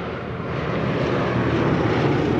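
Damaged World War II B-17 bombers drone in on approach, a dense, continuous engine roar that swells slightly louder as they draw nearer, with no voices over it.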